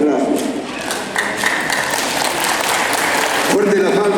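Wedding guests applaud in a dense, continuous wash of clapping that lasts throughout, while voices and music carry faintly underneath.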